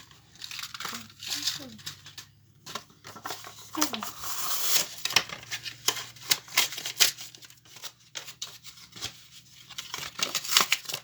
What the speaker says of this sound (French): un bout de scotch double face